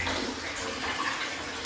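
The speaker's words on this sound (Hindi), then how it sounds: "पानी डाला जा रहा है अभी मेरे ऊपर, गर्म पानी का।" Warm water poured steadily over a person during a scrub in an Arab hammam, a continuous splashing gush with no pauses.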